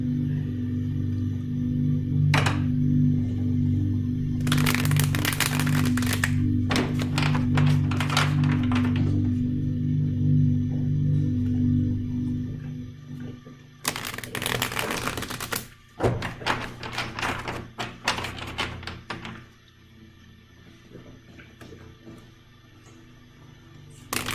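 Tarot cards being shuffled by hand in bursts of quick riffling and tapping, with a steady low hum running underneath and quieter gaps between the shuffles.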